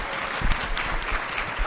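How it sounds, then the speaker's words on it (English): An audience at a closing plenary of a scholars' meeting applauds panelists, with a dense, steady wash of clapping from a crowd filling the room. "Please give them a round of applause."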